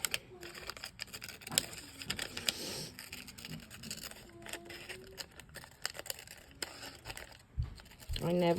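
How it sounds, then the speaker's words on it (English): Scissors snip around the bottom circle of a paper cupcake liner in a series of small, close, irregular crisp cuts and paper crinkles, with a voice talking at times. "we take our scissors and we carefully cut out that bottom circle"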